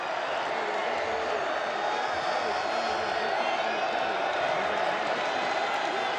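A stadium crowd at a Pittsburgh Maulers vs Michigan Panthers football game keeps up a dense, continuous roar of cheering, with a commentator talking faintly underneath.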